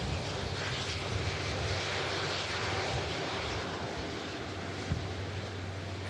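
An EasyJet airliner arriving at Manchester Airport gives off a broad, steady jet roar with some wind buffeting, holding at a moderate distance throughout.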